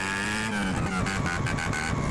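A Honda Titan 150 motorcycle engine revving in a modded GTA game, a continuous buzzing drone with rising and shifting pitch, close and steady.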